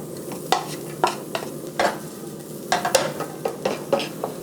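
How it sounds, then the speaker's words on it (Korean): Garlic sizzles in a pan with a little oil, accompanied by repeated sharp clicks and scrapes of a utensil stirring against the pan, close and fairly quiet. "기름을 살짝 두르시고 마늘 갑니다"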